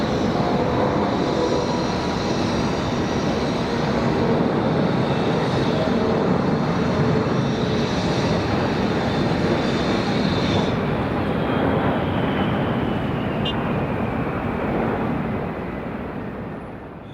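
A passenger airliner in flight on an Umrah journey gives a steady, loud, broadband engine roar that holds for about seventeen seconds and eases slightly near the end, with no talk.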